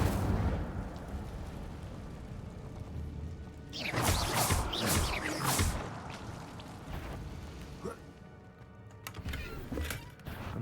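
Incendio fire spell cast in a video game: a sudden loud whooshing burst of flame that roars for about two seconds, then fades, followed by a smaller flare near the end.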